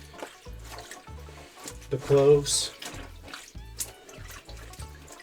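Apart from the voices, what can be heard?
sink filling up with warm water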